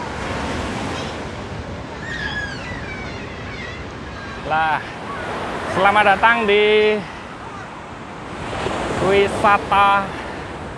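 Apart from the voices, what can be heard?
ocean surf at Wediombo Beach, Gunung Kidul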